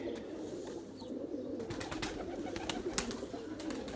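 White Erzurum pigeons coo softly at close range, low repeated throaty calls over a steady background, with a few brief clicks and wing or foot noises, no talk.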